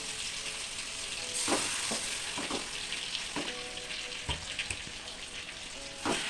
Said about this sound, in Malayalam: കോഴി വെച്ച് കൊടുക്കുന്നുണ്ട്